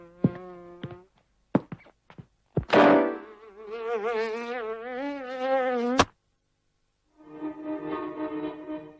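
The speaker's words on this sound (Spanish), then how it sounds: "El estudio ganó un Oscar por esta película de Ferenc Rofus que narra el viaje de una mosca común." A common housefly buzzes in an animated short: whining, wavering drones rise and fall in several bursts, with brief sharp clicks and thumps between them, then a final sustained buzz after a pause.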